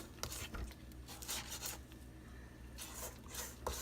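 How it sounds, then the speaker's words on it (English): A spatula scrapes thick lemon pound cake batter from the sides of a mixing bowl in short, uneven rubbing strokes, quiet and close, with no talk. "So now I'm going to scrape the bowl again."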